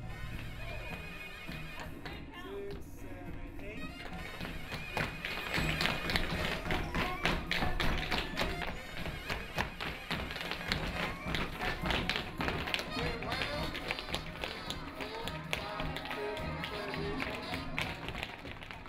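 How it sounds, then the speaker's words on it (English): Rapid taps and heel thuds from a professional tap dancer's shoes, dense rhythmic clatter running steadily for the whole stretch with music or room sound underneath. "I'm a professional tap dancer."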